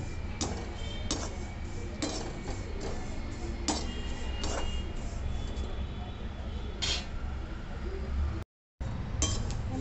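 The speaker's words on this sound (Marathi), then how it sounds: "बडीशेप भाजताना पण असं छान चटचट आवाज येतो, त्यावरनं आपण समजायचं आपली बडीशेप आता भाजत आली." Fennel seeds roasting in a pan give off a run of sharp, irregular crackles and ticks. The pops are close and fairly quiet, and they continue steadily throughout.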